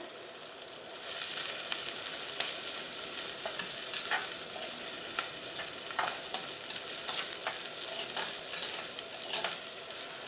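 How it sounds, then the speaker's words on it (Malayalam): Onion, ginger, garlic and curry leaves sautéing in a pan for a prawn stir-fry, a continuous bright sizzle with repeated sharp spoon scrapes and taps against the pan. "സവോളയും ഇഞ്ചിയും വെളുത്തുള്ളിയും കറിവേപ്പിലയും ചേർത്തിട്ട് ഇതൊന്ന് വഴറ്റിയെടുക്കുക"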